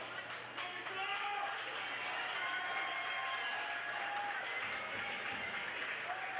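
A crowd at a high school football game claps in a dense, steady patter, fairly distant and sustained, with an announcer talking over it.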